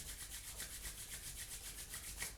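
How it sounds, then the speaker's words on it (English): Palms rubbing steadily together, a soft continuous swishing friction with a quick back-and-forth rhythm, close and quiet with no other sounds. "And then rubbing the palms together."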